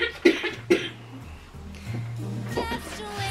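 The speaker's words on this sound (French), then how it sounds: "Si vous entendez la toux, ma petite fille est encore malade" A sick young girl coughs twice in sharp bursts near the start, followed by quieter background sounds and a faint voice.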